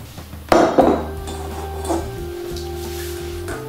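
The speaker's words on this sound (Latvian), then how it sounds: "Izmantoju speciālu olu griezēju. Šīs olas griezēs ir no teskomas." A Tescoma egg slicer cuts through boiled eggs, giving a few sharp metallic clicks with a ringing twang. Two strikes come close together early, then a softer one, over a steady low background hum.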